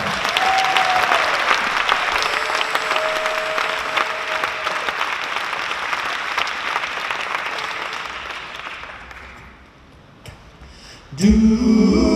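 A concert audience applauds loudly and steadily for about nine seconds. The clapping then fades, and a burst of music or crowd noise rises at the end.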